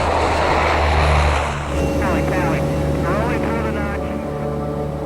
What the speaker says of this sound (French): L'avion de contrôle patrouille le ciel à la recherche de Clark.